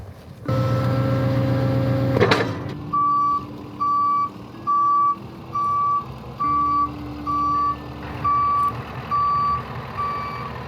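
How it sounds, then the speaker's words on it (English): A truck backing in on a hill sounds about eight evenly spaced backup beeps, loud and close, over a low idling engine rumble that follows an initial burst of revving. "I'm gonna try backing in a little ways."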